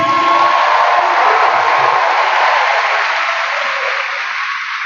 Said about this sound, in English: Can we get another round of applause for our Unity dancers?